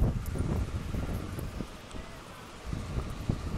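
Wind gusts across a sandy beach near the sea, a blustery rushing noise with buffeting on the microphone that swells and eases, heard alone without talk.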